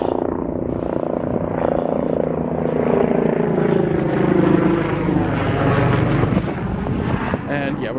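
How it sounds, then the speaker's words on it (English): A helicopter flies overhead above a trail in the Long Island dwarf pine barrens, its loud throbbing rotor drone swelling and fading over several seconds, with wind buffeting the microphone. "Helicopter."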